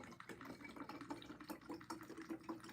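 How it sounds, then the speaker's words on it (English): Acetone pours into water already sitting in a bottle, making a soft continuous gurgle with small splashing bursts, faint and close. "I'm adding acetone to some water that's already in"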